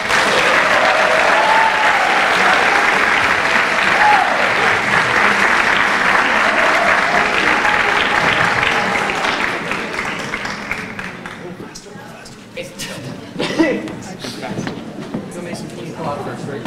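An audience at a high school a cappella festival bursts into loud, sustained applause that welcomes the opening a cappella group, then gradually fades to scattered claps, with a voice briefly heard as the clapping dies down.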